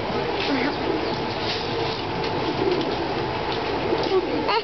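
Racing pigeons cooing inside a loft, soft layered coos blending into a steady murmur of birds, with people talking under them throughout.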